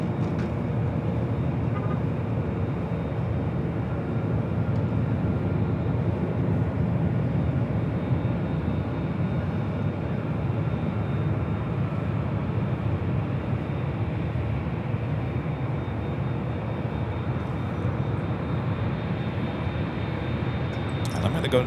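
Steady broadband jet engine roar from a Delta Airbus A330-300 on runway 24L at Los Angeles airport, a continuous loud rumble lasting throughout with no pauses and a voice talking faintly underneath.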